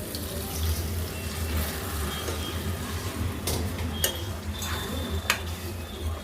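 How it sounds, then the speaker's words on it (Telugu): Water pours steadily into a pan of baby potatoes for kurma, a continuous hissing splash with a few faint clinks, fairly quiet and close. "ఇప్పుడైతే వాటర్ వేసుకుందామండి"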